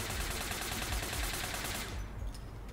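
Rapid sustained automatic fire from an ATAC assault rifle in the online shooter APB Reloaded, a dense burst of shots lasting about two seconds, then cutting off abruptly into quieter game ambience, with no voice over it.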